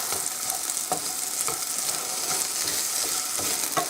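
Mashed potatoes and mushrooms being stirred in a frying pan, giving a steady close sizzle and crackle with soft periodic scrapes and stirring knocks throughout.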